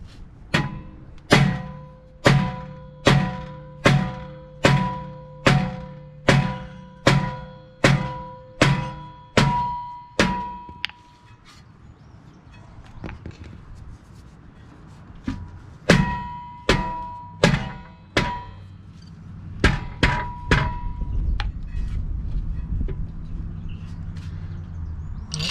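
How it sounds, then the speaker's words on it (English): A rubber mallet pounds a stuck rear brake rotor on a 2018 Toyota Sienna: a run of about a dozen evenly spaced, ringing metallic thunks, a brief pause, then several more blows, loud and close. "With my rubber mallet, I'm going to be hammering the rotor."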